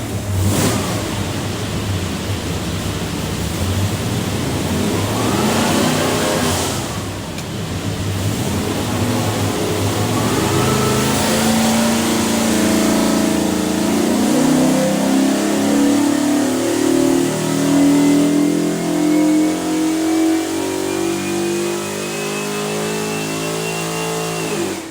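A 347 stroker V8 in a 1932 Ford on a dyno at Prestige Motorsports, rumbling then climbing through a long, loud sustained rev as the pitch rises steadily, with no talk.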